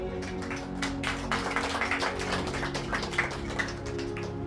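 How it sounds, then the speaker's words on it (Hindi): Church congregation clapping during a Hindi prayer service, a dense patter of many hands hitting in quick irregular rhythm, moderately loud and sustained. "ताली बजाएं अपने लिए।"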